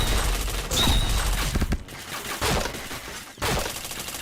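Loud, continuous automatic gunfire from a shooter video game, with dense overlapping shots and two brief gaps in the barrage.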